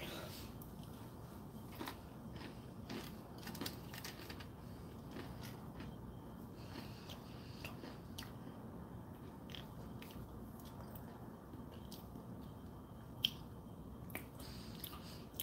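Someone munches food close to the microphone, with soft irregular wet bites and crunches repeating over a quiet room, while speech is faintly present.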